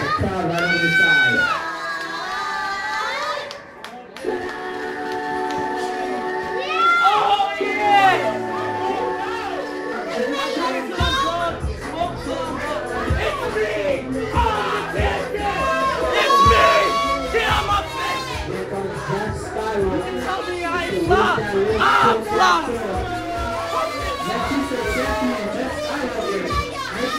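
A wrestling event crowd roars and cheers throughout, loud and continuous, with shouts and chatter mixed in and some music-like tones early on.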